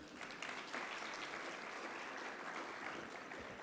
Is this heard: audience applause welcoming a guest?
yes